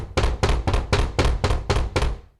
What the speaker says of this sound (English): a thumping at the door